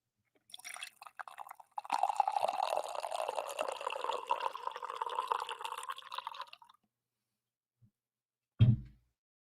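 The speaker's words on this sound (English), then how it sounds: "I'm going to pour some coffee here" Coffee is poured steadily into a cup for several seconds, a close liquid splash and trickle that stops abruptly, followed after a pause by a soft thud.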